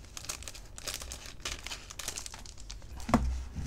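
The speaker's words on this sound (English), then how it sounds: "let's go ahead and use some scissors to cut the pack open" Scissors cut open a jumbo trading card pack, giving a steady run of crinkling, snipping foil-wrapper noise up close, ending in a slightly louder rustle.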